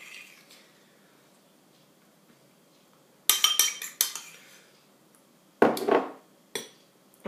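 A spoon works egg yolk purée and mayonnaise together in a bowl for an egg mimosa filling. It gives short bursts of clinking and scraping against the bowl, separated by quiet pauses.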